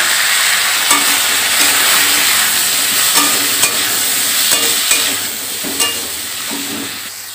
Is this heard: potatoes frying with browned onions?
yes